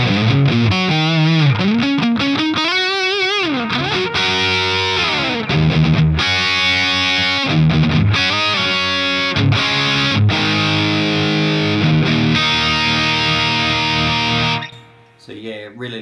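Electric guitar through a Diezel Schmidt amp on a high-gain channel with reverb, mids and treble raised, plays a continuous run of distorted riffs and bends, loud and up front, before dropping away near the end.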